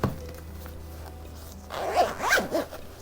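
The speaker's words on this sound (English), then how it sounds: "Zip this bad boy up." A console carrying case is zipped shut in two quick, close rasping pulls, loud and alone after a short quiet lead-in.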